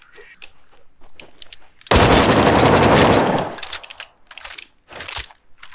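A burst of rapid automatic gunfire lasting over a second crackles loudly in The Front survival game, followed by scattered single shots and clicks amid quieter game sounds.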